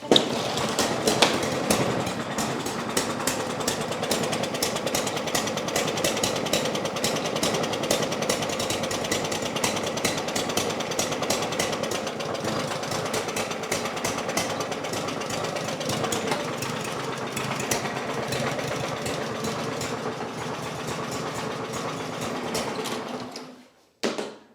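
A Husqvarna 5521P push mower with a bent crankshaft and a carburetor blowing fuel back fires up and runs rough, a loud, rapid, rattling clatter held steady for about twenty seconds before cutting off abruptly.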